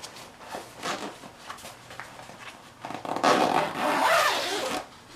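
Zipper being run along a concert ukulele gig bag with a map-print design, a series of quick rasping pulls that build into a longer, louder zip near the end, close and alone.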